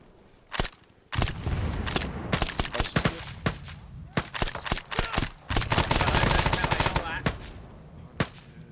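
Gunfire in the Vietnam War game Arma 3 S.O.G. Prairie Fire: loud, close automatic bursts and single shots in an irregular rhythm, some fast strings of rounds, with brief talk between them.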